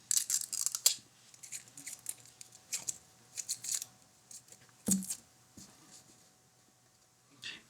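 Protective film being peeled off the plastic body of a cheap $3 wifi camera: scattered crinkly tearing and crackling bursts, close and faint, separated by quiet gaps with light handling noise.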